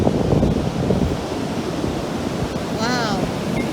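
Surf rolls onto a beach on a rainy, windy day, a broad continuous wash of waves with wind buffeting the microphone and a brief faint whistling near the end.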